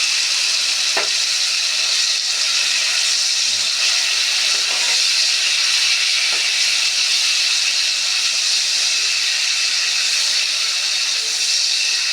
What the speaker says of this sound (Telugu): ఈ విధంగా వేయించుకోవాలి రొయ్యల్ని.